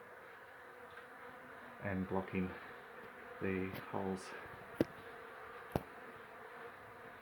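Bees buzz in bursts around an opened beehive being relocated from a bathroom wall cavity, the droning rising and falling near the microphone while someone talks and a couple of sharp knocks ring out.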